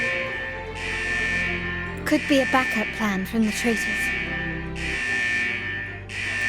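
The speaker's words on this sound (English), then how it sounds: "Is that the central alarm of the vault?" A vault's central alarm sounds in Wuthering Waves, a steady electronic buzzing tone that drops out for a stretch while a voice speaks over it, then returns near the end.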